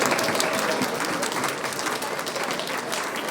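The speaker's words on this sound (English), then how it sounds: "Give them a round of applause." An audience at a sixth-grade band showcase applauds students' percussion playing, a dense, steady wash of many hands clapping, close and loud, holding evenly throughout with a slight fade near the end.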